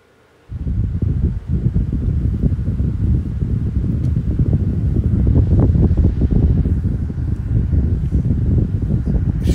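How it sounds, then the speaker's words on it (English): A Holmes high velocity electric fan runs on its high speed setting, giving a loud, steady, close whoosh of rushing air that starts abruptly and holds continuously. "here's this Holmes high velocity fan"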